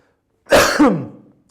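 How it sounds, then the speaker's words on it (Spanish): A single close cough, a harsh throaty burst that trails off into a short rasp, alone in quiet. "Me ha dado la tos ahora, lo siento."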